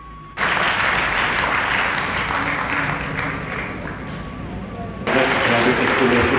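A crowd claps steadily at a private school association's felicitation ceremony for teachers and students in Bhind, India. The dense applause eases slightly midway, then swells back up loud.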